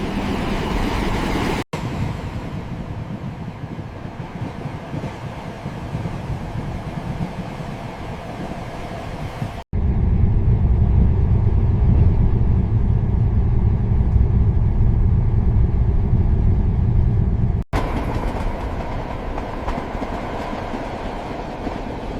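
Heavy train, roughly 300 tons, rolling steadily along rails with a continuous rumbling clatter, broken by a few abrupt cuts between shots, loud and close throughout.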